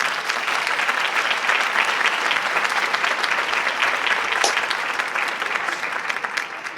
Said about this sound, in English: I'll give them some more canned applause because I can't see.